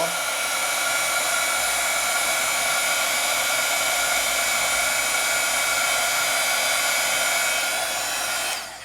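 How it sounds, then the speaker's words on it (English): A heat tool blows steadily over dye and pigment ink on black paper, a loud continuous whirring hiss that holds even for about eight seconds and then cuts off at the end. "if you want to dry it faster, just hit it with your heat tool"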